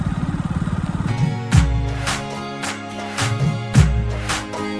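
A motorcycle on the way to a farm putters with a rapid idle chug, then revs in several loud surging bursts, close and without talk.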